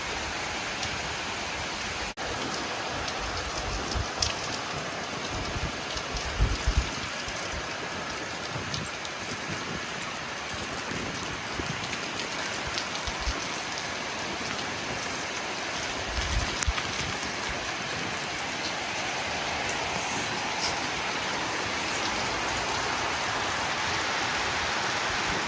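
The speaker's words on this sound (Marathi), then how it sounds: "फायनली आज पाऊस आला बघा" Rain falls in a strong wind, making a dense, even hiss with occasional gusting surges and a few dull knocks, heard without any voices.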